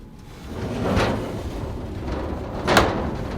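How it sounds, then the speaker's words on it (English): Sliding glass doors on a Japanese engawa rolling shut, a rumbling glide swelling then settling, followed by a sharp knock as a panel meets its frame, close and fairly loud with no voices. "close these glass doors"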